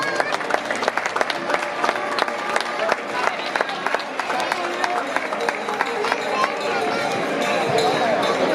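An audience at an equestrian exhibition in Sollana claps steadily, a dense crackle of many hands close by, with some crowd noise mixed in and building slightly toward the end.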